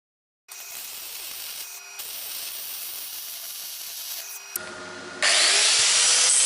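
Arc welding a seam on a homemade metal device, a steady crackling hiss that runs continuously with brief breaks, then turns harsher and louder near the end.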